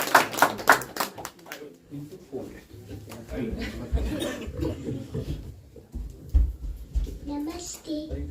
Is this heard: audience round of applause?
yes